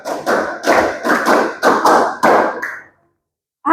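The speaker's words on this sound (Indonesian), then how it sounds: "tepuk 5 2 kali." Students clap the 'clap five' pattern twice in a classroom, about seven loud, evenly spaced bursts of group hand claps that end abruptly in silence.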